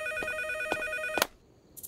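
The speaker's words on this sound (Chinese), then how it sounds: "大晚上的打什么电话？" A cartoon telephone rings late at night in a series of quick electronic chirps, bright tonal pulses repeating a few times before cutting off, then a short click.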